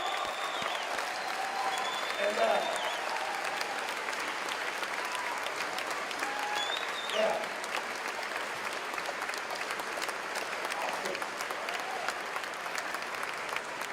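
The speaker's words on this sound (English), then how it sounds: "Can we give them a big round of applause?" Sustained audience applause for graduating students at a Class of 2016 graduation ceremony, a steady broadband wash of many hands clapping over fourteen seconds with a few brief cheers rising above it.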